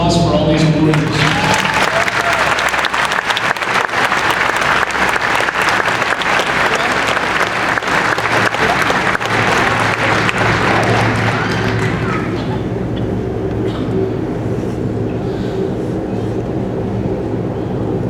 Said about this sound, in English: Ladies and gentlemen, a round of applause for all these awardees.